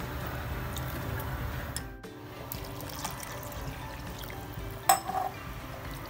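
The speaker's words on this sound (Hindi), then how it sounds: "अब इसका मैं पानी छान लेती हूँ" Washed sabudana (tapioca pearls) drained of their soaking water, giving a steady low splashing, trickling pour that runs continuously, briefly dips, and carries on with a small clink partway through, with no talking.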